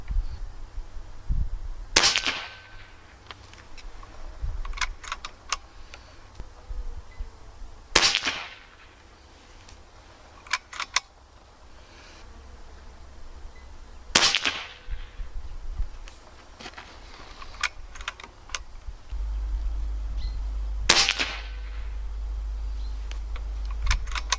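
A PCP air rifle fitted with a moderator fires four sharp, muffled cracks spaced several seconds apart, each followed by a short mechanical rattle, with faint handling noise in between.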